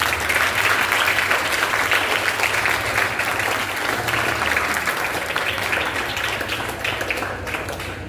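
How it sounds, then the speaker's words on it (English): Steady, dense applause from a school audience at an elocution competition, continuous and loud throughout, gradually easing slightly toward the end. "Let's clap for all the class teachers."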